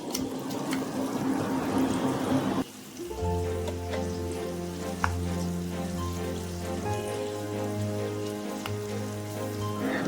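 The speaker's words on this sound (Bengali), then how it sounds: "এরপরে সেই গুঁড়ো করা মশলাটি আমি তেলের মধ্যে দিয়ে দেব।" Ground spices hit hot oil for mango pickle, giving a bright, crackly sizzle for a few seconds, then the sound cuts to a steady, layered tonal hum that carries on quietly to the end.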